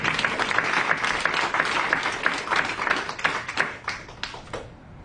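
Audience applause at a 2020 hospital resident graduation ceremony at RUMC, a dense, steady wash of many hands clapping that swells and then tapers off near the end, with no voices over it.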